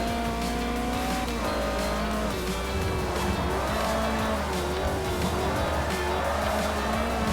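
A race car slides sideways through a turn in Forza Motorsport 4, its engine roaring continuously while the tires squeal and skid in long, wavering tones, with no talking.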